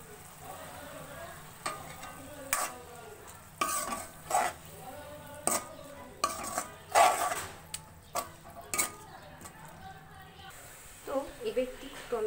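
Onion frying with ginger and garlic paste in a pan over medium heat, a soft sizzle broken by repeated scraping and clinking strokes of a spatula stirring against the pan at an irregular pace.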